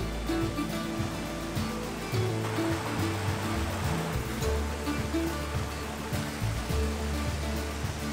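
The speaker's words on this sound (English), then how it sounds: "this Four Falls walk takes in, predictably, 4 of the most eye-catching waterfalls in the area" A waterfall on a walk in the Brecon Beacons rushes in a steady, full roar of falling water, with low rumbling underneath and no voices.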